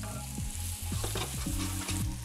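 Apple slices cook in a frying pan for crepes, giving a loud, close, continuous sizzle and crackle. Clinking and scraping sounds recur through it, and no one speaks.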